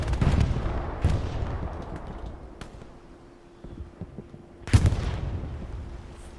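Gunfire and heavy bursts in the World War II shooter Hell Let Loose during a competitive match, with a mounted machine gun firing; loud close bursts open and recur near the end, with quieter distant shots between.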